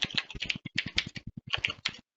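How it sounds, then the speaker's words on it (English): Fingers typing on a computer keyboard at close range: quick bursts of clicky keystrokes with short gaps, about a dozen distinct presses over two seconds, ending abruptly, no voices. "You can just type in VAD"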